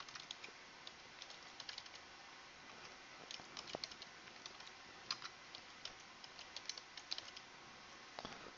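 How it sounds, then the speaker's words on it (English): Someone types a name on a computer keyboard, quick irregular key clicks at low volume in a quiet room, with no voices. "I'm going to type in my name"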